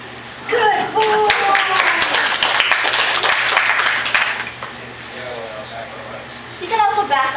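An audience claps for a performing trick dog at a show, a steady burst of applause lasting several seconds while a trainer's voice speaks over it and continues as the clapping fades.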